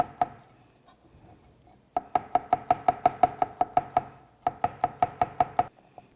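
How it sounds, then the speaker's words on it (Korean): Garlic being sliced with a knife on a cutting board while prepping seasoning for tangpyeongchae and yukhoe, a short burst of knocks then two quick runs of steady, evenly spaced chops, close and crisp with no talking. "마늘 좀 편을 썰어 주시고요"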